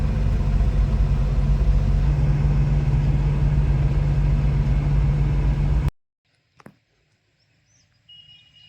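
A 2018 Maruti Suzuki Omni van's engine runs with a loud, steady low drone and hum for about six seconds, then cuts off abruptly, leaving near-silence with a brief clunk and faint distant bird calls.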